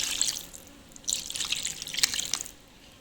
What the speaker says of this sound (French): Ensuite, là, je rajoute l'eau